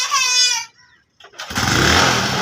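A motorcycle engine starts after a brief sputter and pause, then catches and runs loud and close, with a voice heard beforehand.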